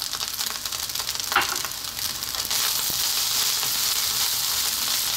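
Pork sausage fried rice with spring onion sizzles steadily in a hot pan as it is stirred, a loud continuous frying hiss with occasional scraping clatter.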